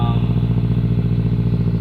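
A 2017 Subaru Crosstrek fitted with a 5-inch aftermarket axleback exhaust idles close by, giving a loud, steady, even rumble with a smooth low throb and no raspiness.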